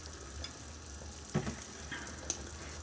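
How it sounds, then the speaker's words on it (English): Chopped onions and meat sizzling in a frying pan in a home kitchen, a quiet steady hiss with a couple of soft clinks from stirring. "just put a little bit in at a time because it's going to sizzle"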